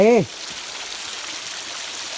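Water tumbles over rocks at Chim Yai waterfall near Ban Khao Phluang, Phetchabun, after recent rain, making a steady hiss. A voice is heard briefly at the start before the rushing water continues alone.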